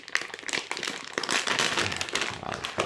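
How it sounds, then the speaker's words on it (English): Plastic bag holding a Tonier 220mm X-style 5-inch carbon fiber quad frame kit crinkles and crackles continuously as it is handled and opened, close and fairly loud throughout. "So let's see what's in the bag."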